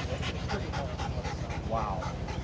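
A military working dog from the Air Force pants rapidly and rhythmically close by, with a short whimpering whine partway through and some background voices.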